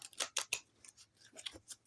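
Tarot cards being shuffled, a quick series of soft crisp riffling snaps and ticks in irregular bursts, close and fairly faint.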